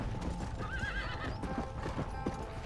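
A horse in a video game whinnies once over a steady, dense run of hoofbeats, all set against a continuous game background.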